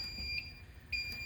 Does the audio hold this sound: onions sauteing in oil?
no